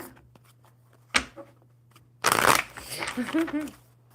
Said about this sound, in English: One more good shuffle for Lizzie.